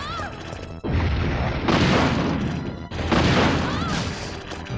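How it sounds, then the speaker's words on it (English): Rocket launcher blasts striking a mutated boss in Resident Evil 3: Nemesis, two loud booming crashes about a second and a half apart over continuous game noise, with no talk. "So we're gonna hit him with the rocket launcher."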